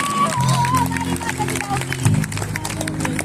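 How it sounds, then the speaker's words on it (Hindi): A crowd at a devotional night gathering claps loudly for parents, giving a dense, continuous patter of hands under a sustained tonal musical or vocal hum. "एक बार माता पिता के लिए जोरदार ताली बजाओ"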